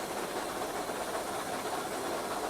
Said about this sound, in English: Injector's just been put on.